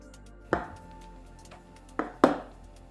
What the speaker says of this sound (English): then we're just going to cut off the excess